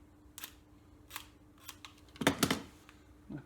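A knife shaves the body of a waggler float, quiet close scraping strokes in a few separate bursts with a denser flurry near the end, faint and without talk.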